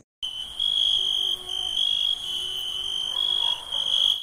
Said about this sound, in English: You must have heard many times during the night that insects make a special kind of sound like this.